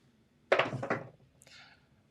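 Dice hit a craps table with a quick cluster of hollow wooden thunks and rattling bounces, close and fairly soft, then a faint brief clatter as they settle.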